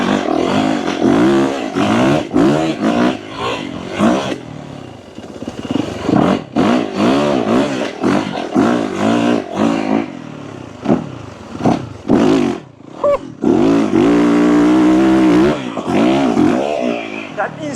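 A Yamaha YZ450FX dirt bike on a first ride with weak front suspension, its engine revving and surging in repeated bursts through gear changes, loud and close, with a rider talking over it.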